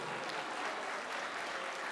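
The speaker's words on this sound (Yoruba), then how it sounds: "Ẹ jọ̀ọ́ nítorí Ọlọ́run bá pàtẹ́wọ́ fún wọn, ẹ jọ̀ọ́" An audience claps at the Olokiki Oru movie premiere, a dense, steady wash of applause filling the whole moment, heard from a moderate distance at low volume.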